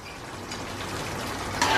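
Garlic sizzles in a hot pan with meat and spices for the zirvak base of plov, a soft steady frying hiss with a faint clink near the end.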